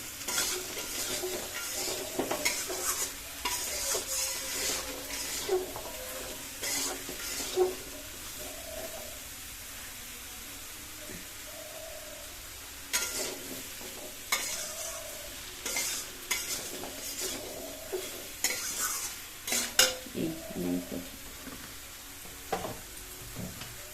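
Tender bottle gourd sautéing in oil in a pan for a tilapia curry, a continuous close sizzle broken by frequent scraping stirs of a spatula and a few soft bubbling pops, no voices.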